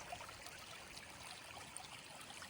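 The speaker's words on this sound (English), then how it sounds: "It's our seasonal creek." Faint, steady trickling water from a small creek, a continuous gentle wash without other sounds.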